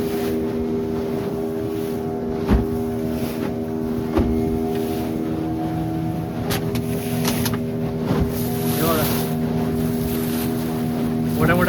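A motorboat runs steadily over sea waves with wind buffeting the microphone, its engine drone continuous throughout and occasional thumps and splashes as the hull hits the swells.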